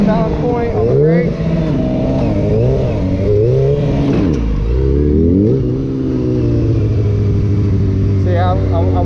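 Stunt motorcycle engine revving under throttle while the rider works the brake: a loud, continuous engine note rising and falling in repeated swells, close and steady throughout.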